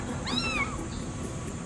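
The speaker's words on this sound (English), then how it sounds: "Look at these kittens." A single kitten's high, arching meow, close by, from a litter of street kittens outdoors, over steady low background noise with no talk.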